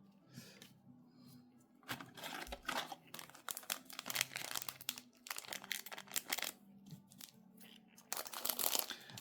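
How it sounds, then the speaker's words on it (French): Scissors snip and tear through a foil Japanese Yu-Gi-Oh OCG booster pack, giving repeated crinkling, crackling and cutting sounds close up, irregular and quiet. "Qu'est-ce que j'ai horreur de mettre des coups de ciseaux."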